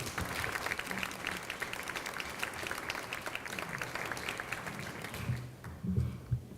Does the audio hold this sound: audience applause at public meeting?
yes